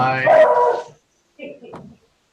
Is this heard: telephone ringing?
no